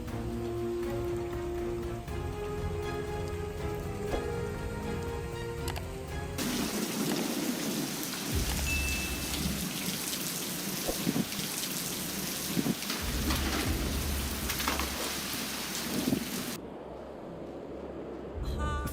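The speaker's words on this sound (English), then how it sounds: "torrential rains arrive, bringing with them a fierce fury that makes the situation even more severe" Torrential rain in Guangdong, China pours steadily as a dense, loud hiss, with low rumbles of thunder rolling underneath and a brief quieter stretch at the start.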